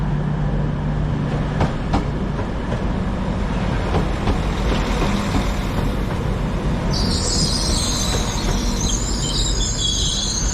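A train pulls into Manchester Piccadilly station, terminating there on arrival from Sheffield, with a steady loud rumble of wheels and rolling stock, occasional clicks, and a high squealing hiss joining in near the end.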